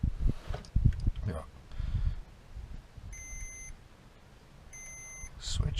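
A short electronic beep sounds twice from a switch being wired for an ME221 engine-management launch control setup, clear tones with rustling and handling noise around them and a voice speaking early on.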